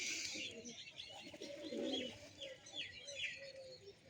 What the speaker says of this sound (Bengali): আমার কাকার কাছে দেখতে পাচ্ছ বন্ধুরা কত পায়রা আছে